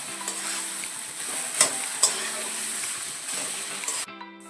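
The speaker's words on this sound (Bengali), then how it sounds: "এবার আস্তে আস্তে গ্যাসটা মিডিয়াম করে পুরো ভেজে নেবো।" Grated cauliflower filling for a spicy paratha fries over a medium flame, a close steady sizzle broken by a few sharp scrapes and clinks of a spatula, ending abruptly in a brief quieter tail.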